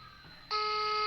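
A brief electronic ringing tone switches on after a quieter lead-in, steady and bright, like an incoming phone call signal.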